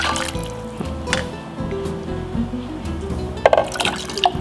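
Water pours and splashes steadily into a container of yogurt, with drips and a gurgling fill, over a low background hum and a few louder splashes near the end.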